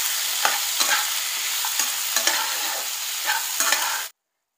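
Tomato, onion, garlic, cashews and ginger cook in a pan with a continuous close sizzle, broken by repeated scrapes and stirring strokes, before the sound cuts off abruptly near the end.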